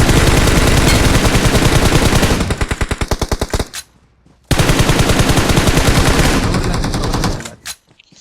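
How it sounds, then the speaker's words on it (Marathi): Rapid automatic gunfire from a video game comes in two long, loud sustained bursts, each ending in a few separate shots, with a short silent gap between them. "फायरिंग"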